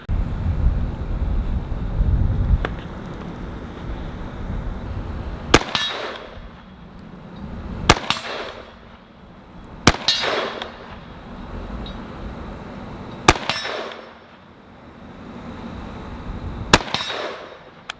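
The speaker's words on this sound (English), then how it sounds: "let's shoot the 450 at the steel" A .450 Bushmaster rifle fires at steel targets outdoors, giving five sharp, loud reports spaced a few seconds apart, each followed by a ringing clang and a decaying echo, with wind noise between shots.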